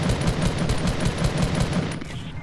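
Rapid automatic gunfire in a Fortnite match, a steady burst of evenly spaced shots at moderate distance lasting about two seconds before cutting off.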